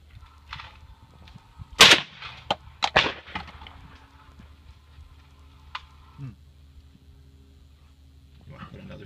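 A shotgun fires at clay targets at an outdoor range, with one sharp, loud report followed by a few smaller bangs and clicks, then long quiet stretches and faint background noise.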